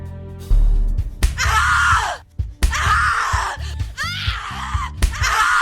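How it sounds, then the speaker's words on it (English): Anguished screams in the horror video game The Cat Lady, several long loud cries broken by brief gaps and thuds. "Scream louder, little bitch! Scream your lungs out!"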